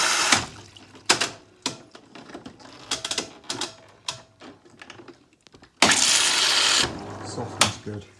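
A Tricity Bendix AW1053W washing machine, fitted with a newly replaced inlet valve, runs its pre-wash fill. Clicks and knocks come first, then a sudden rush of water surges for about a second, with faint hissing and handling sounds around it.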